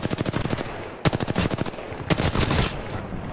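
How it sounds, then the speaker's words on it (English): Gunfire aimed at an enemy team in Apex Legends: loud, rapid automatic bursts with a short pause, then a longer sustained volley, close and alone. "I'm shooting at the other team"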